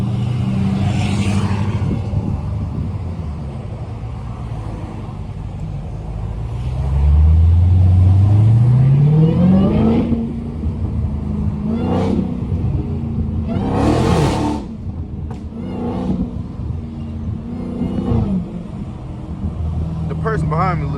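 A straight-piped Dodge Hellcat on a traffic drive revs up in a loud rising sweep, then settles into a throaty cruising drone, with a few sharp bursts and a person talking over the engine.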